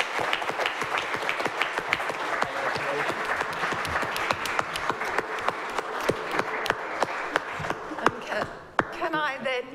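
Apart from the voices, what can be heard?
audience applause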